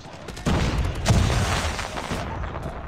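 A grenade blast in Call of Duty Mobile bursts suddenly and loud, a heavy broadband boom with a second surge and a lingering rumbling tail that fades over a couple of seconds.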